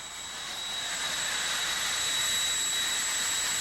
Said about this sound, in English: Jet Dragsters getting ready to go once again here at Raceway Park